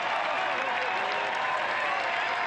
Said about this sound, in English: Huge round of applause for this man.